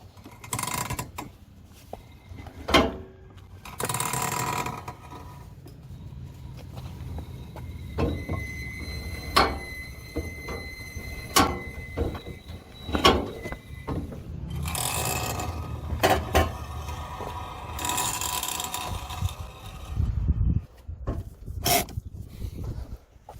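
A Honda S2000 with a suspected broken rear differential or axle is pushed by hand and gives off irregular mechanical clunks, grinding and ratcheting clicks. Scraping rustles occur between the knocks, which are close and uneven, and no one speaks.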